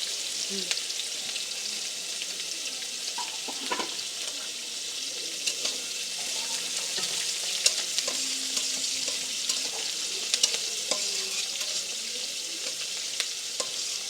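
Bitter gourd frying with garlic, onion and green chili, a steady low sizzle with occasional stirring scrapes in the pan, fairly quiet and continuous with no talking.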